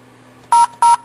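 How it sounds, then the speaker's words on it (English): Two short DTMF dialing tones from an X-Lite softphone on an AudioCodes SPS setup, each beep loud, clean and about a tenth of a second long, separated by a brief gap over a faint steady hum. "I can dial from the X-Lite."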